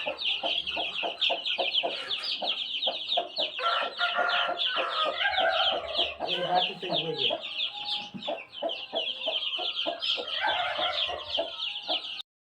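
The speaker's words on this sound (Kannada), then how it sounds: "ಕೋಳಿ ಮರಿ ಹೆಂಗಿದಾವೆ ನೋಡಿ ಒಂದೇ ಸೇಮ್ ಬಣ್ಣ ಬಣ್ಣದಲ್ಲಿ ಹುಟ್ಟಿದಾವೆ" A brood of chicken chicks, all hatched the same colour, peeps and clucks nonstop up close, a dense, steady chorus of high chirps carrying on for several seconds.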